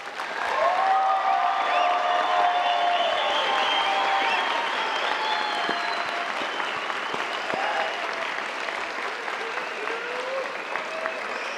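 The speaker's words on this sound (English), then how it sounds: "Can we give everyone another round of applause?" Sustained applause from a large audience at a college commencement ceremony for the graduating class of 2022, dense steady clapping filling the hall throughout, with a brief voice at the start and faint scattered cheers.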